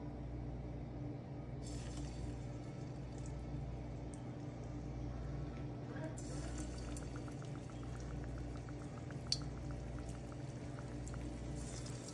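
Round pitha made with palm and date juice fry in hot oil, giving a steady, soft bubbling hiss that runs on evenly with no voices.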